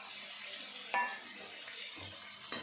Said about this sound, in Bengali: এবার আমি রসুন বাটাটাও দিয়ে দিলাম।